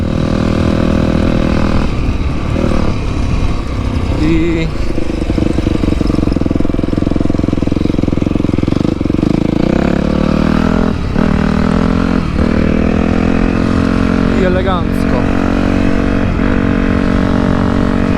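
A Yamaha YZF 250 motorcycle engine idles steadily and loud up close, with several quick throttle blips rising in pitch and falling back, while someone speaks briefly over it.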